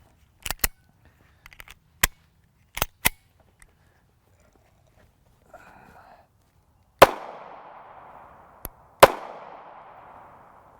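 A Springfield Hellcat subcompact 9mm pistol fires 124gr FMJ rounds as a string of sharp, loud shots at uneven intervals, with the last few ringing out and echoing strongly.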